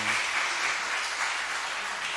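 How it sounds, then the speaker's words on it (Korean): An audience at a church anniversary service for an elder's installation claps in a brief, steady round of applause, many hands at an even level with a few voices underneath. "인사하시고 다시 한번 박수 해주세요."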